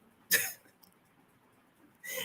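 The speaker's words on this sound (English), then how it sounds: "Now I'm coughing and hacking every time I lay down and overheat." A person with a chest cough from postnasal drip gives a sharp, close cough, then a short quiet gap before a second harsh cough or throat-clearing burst near the end.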